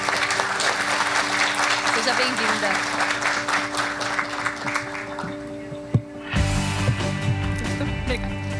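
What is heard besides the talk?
audience applause welcoming a speaker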